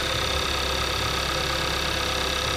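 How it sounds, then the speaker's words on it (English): Under the hood of a 2015 Kia Soul, its 2-liter GDI engine idles with a steady, close, dense hum and no talk over it. "And under the hood, you got your 2-liter GDI engine."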